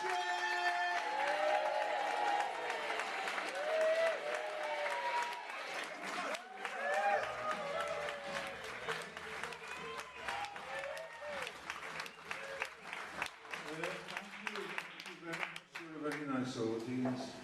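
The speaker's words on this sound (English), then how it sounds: "Can we get that applause back in the room, please?" A comedy club audience applauds a comedian, clapping steadily with scattered cheers, and a voice talks over the crowd in places.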